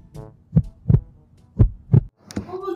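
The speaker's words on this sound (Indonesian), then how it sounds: "Tapi deg-degan." A heartbeat sound effect thumps in two paired lub-dub beats, deep and loud, with short gaps between pairs and a brief tonal swell at the end; no one speaks.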